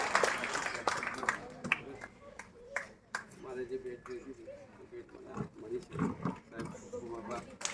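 Loud applause rises from an audience at a school retirement farewell ceremony, a burst of clapping mixed with cheers and crowd noise, heard close alongside voices and a public-address announcer.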